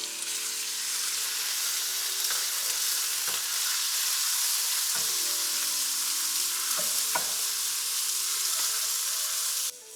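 Diced lamb sears in hot oil in a wok for lagman noodles, a loud, steady, close sizzle lasting throughout, with a few sharp stirring clacks and no voices.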